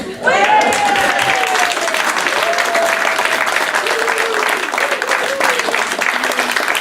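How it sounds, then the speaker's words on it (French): Wedding guests applauding just after the couple is declared married, loud continuous clapping filling the room for several seconds, with a voice and a few whoops briefly rising over it. "On peut applaudir."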